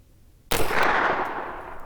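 A Windham Weaponry 9mm carbine fires at an outdoor range, one sharp, loud report followed by a long echoing decay, close to the shooter and without speech.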